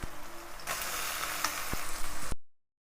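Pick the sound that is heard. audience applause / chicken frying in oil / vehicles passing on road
chicken frying in oil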